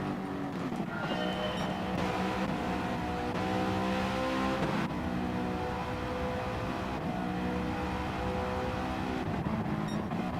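Race cars in a Gran Turismo 7 replay roar through an overtake at the last corner. Layered engine tones rise and fall with a brief surge of acceleration, steady and moderately loud, with no talking.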